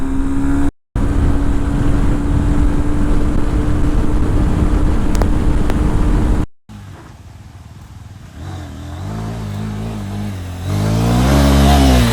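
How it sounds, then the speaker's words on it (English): A Honda NX 200 motorcycle engine idles steadily, cuts out briefly, then revs up and down with rising and falling pitch, loud and close. "It's somewhat a fun kind of an engine. It loves to be revved."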